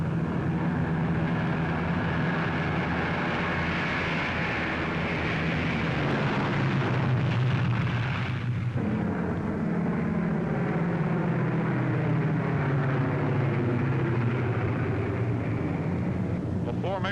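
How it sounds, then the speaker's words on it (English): A formation of eighteen World War II B-17 bombers flies in the air, a steady, loud, droning roar of massed piston engines that rises slightly midway and holds throughout. "A formation of 18 B-17s was on its way to attack Rouen."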